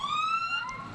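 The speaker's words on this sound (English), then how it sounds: "Oh, the kids love those sirens." Emergency vehicle sirens at a festival of lights parade in Salem, wailing in loud, rising electronic tones that sweep steadily and stay close and continuous.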